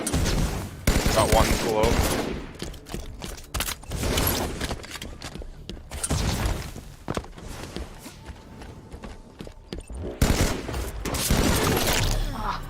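Dense gunfire rattles in the video game Halo 5, with loud bursts of shooting and explosive hits that come and go across the clip, while a player talks over the action.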